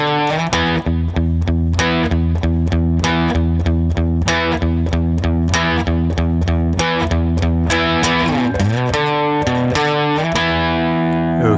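A distorted electric guitar plays an intro riff at a slow tempo, with a loud, steady stream of repeated chugging notes and a bending slide near the end, alone and up close.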